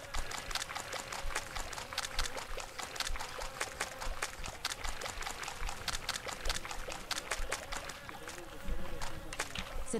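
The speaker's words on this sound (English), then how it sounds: "hearing the flies in my headphones is so annoying" Flies buzz steadily in the audio game Survive the Wild, a continuous insect drone with dense, repeated short ticking and clicking sounds layered throughout.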